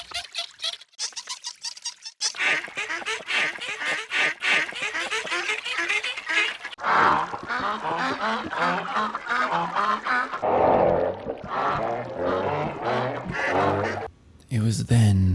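Sampled drake quacks chopped into a rhythmic beat, repeated harsh honking bursts in quick patterns with stuttered edits, loud and up front, with brief talk mixed in.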